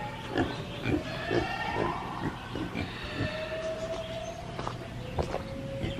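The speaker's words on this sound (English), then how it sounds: "The pigs are wanting fed." Pigs at a zoo in North Georgia grunt and snuffle in low, irregular bursts, fairly faint, with footsteps and a faint whistling tone in the background.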